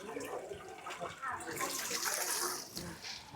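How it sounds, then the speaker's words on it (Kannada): Water pours from the mouth of a Nandi statue at the Koragajja temple, a steady, faint splashing stream running throughout. "ನಂದಿ ಬಾಯಿಂದ ಬರ್ತಾ ಇದೆ ನೀರು."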